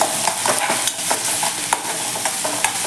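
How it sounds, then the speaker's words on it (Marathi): Finely chopped green chilli and ginger sauté in a pan over a gas flame, crackling and sizzling loudly and close, with repeated scraping stirs of a spoon. "आता इथे जे आपण मिरची आलं छान असं बारीक गॅसवरती परतून घ्यायचं आहे."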